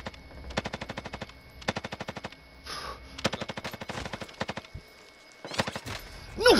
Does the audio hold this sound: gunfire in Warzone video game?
yes